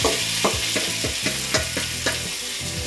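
A spatula stirs soy marinade for braised pork chops around a hot pan, giving repeated scraping strokes about every half second over a constant loud sizzle, with no voices.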